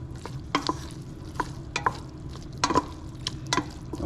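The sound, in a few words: stirring butter in a pan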